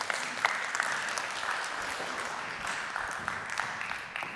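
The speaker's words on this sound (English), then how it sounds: "you can just give a round of applause to these wonderful human beings" An audience applauds panelists at a panel discussion, a steady wash of many hands clapping, moderately distant and even throughout.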